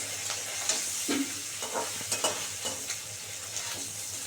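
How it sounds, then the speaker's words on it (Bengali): Spiced fish fries crisp in a pan with a steady sizzle, broken by occasional stirring and the clink of a utensil, with no talking. "আর একটু ভালো করে ভাজা হোক বন্ধুরা এই দেখো একদম মাছ কড়া করে মুচমুচে হয়ে গেছে"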